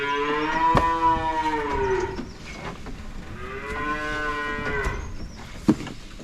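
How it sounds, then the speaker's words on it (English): Goats bleating in Munnar, India, two long, loud, wavering calls a few seconds apart, close by, with a short sharp knock near the end and no voices. "These goats are characters."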